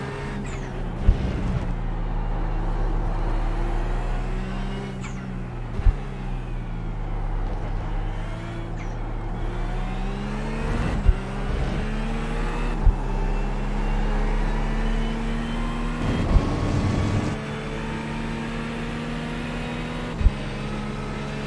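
A GT3 race car engine in a racing video game at Circuit de Barcelona-Catalunya, droning steadily with rising and falling revs and gear changes, punctuated by brief clicks, with no talking.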